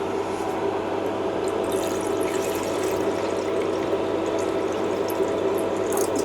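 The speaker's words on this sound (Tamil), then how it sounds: "தண்ணியை ஊற்றிக்கலாம்." Water pours steadily onto a Prestige infrared induction stove, a continuous, fairly loud rushing splash that lasts several seconds without voices.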